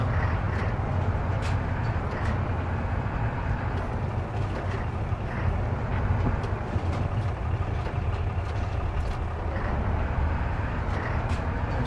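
A Chevy Bison truck in the MudRunner off-road game drones with a steady, low engine rumble that holds an even level throughout, broken only by faint ticks and knocks, with no talking over it.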